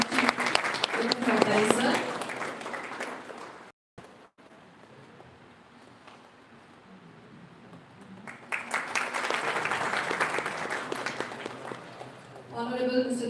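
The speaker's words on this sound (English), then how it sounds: "Big round of applause for Dr. Abdul." Audience applause at an international conference at Phadtare Knowledge City, a steady burst of clapping that breaks off, leaving a quiet murmuring gap, then swells again near the end with some voices mixed in.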